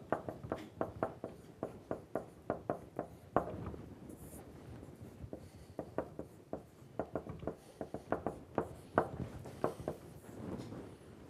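Chalk or marker on a lecture-hall board makes quick scratchy strokes in an uneven series of short taps and scrapes, fairly faint and with no voices.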